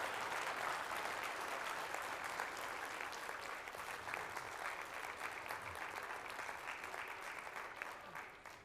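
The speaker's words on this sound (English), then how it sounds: "Can you please give them an applause?" Sustained audience applause at a live-streamed education union event, dense and steady clapping filling the room for the full duration with no pauses.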